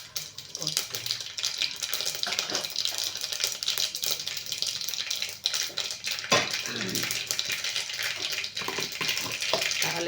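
Mustard seeds and urad dal crackle and sizzle in hot oil in a heated pan for tempering, a dense, continuous spitting hiss close up, with a voice talking faintly underneath.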